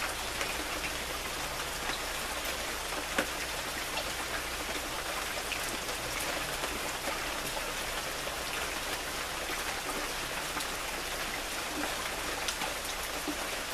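Steady rain falls in a dense, even hiss with scattered sharper drops, constant and fairly close, with no voices over it.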